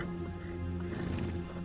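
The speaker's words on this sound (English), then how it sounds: "the tarpan, the wild and aggressive ancestor of the modern horse" A tarpan, the wild and aggressive ancestor of the modern horse, gives a low, steady whinnying call with rough harmonic tones, close and moderately loud for a short moment.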